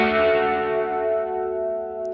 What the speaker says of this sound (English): In single mode, it's going to sound a little bit more like a traditional chorus